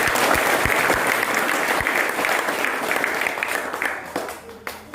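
Dense, sustained applause from a crowd at a fast-breaking gathering of a farmers' group, loud at first and gradually thinning out toward the end.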